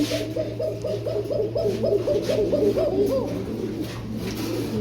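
Pigeons coo repeatedly in a rolling, rhythmic series of low throaty calls, fairly close, over a steady background hum, with no speech.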